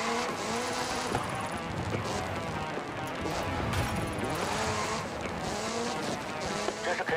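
Ford Focus RS RX Gymkhana 10 race car with a 2-litre turbocharged four-wheel-drive engine in Forza Horizon 5, its engine roaring steadily with tyre skids and impacts as it races and crashes, loud and continuous throughout.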